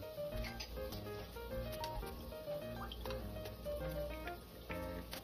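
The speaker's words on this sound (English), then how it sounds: "So I'm going to add water." Water pours and trickles into a pan on the stove with steady splashing and dripping, fairly quiet and close, with no talking.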